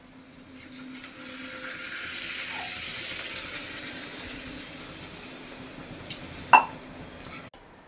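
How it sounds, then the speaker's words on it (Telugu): Water from a full glass poured into a pan of onions mixed with chili powder and masala, a steady rushing splash lasting several seconds and ending with a short clink. "ఇప్పుడైతే మనం గ్లాస్ ఫుల్ నీళ్ళు వేసుకోవాలి."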